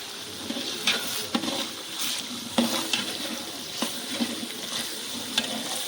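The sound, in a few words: whole spices frying in oil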